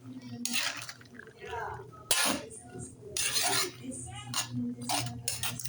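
String beans and eggplant are stirred in a pot for a coconut-milk vegetable dish, giving repeated metallic scrapes and clinks of a utensil against cookware, close and irregular, with faint voice in the background.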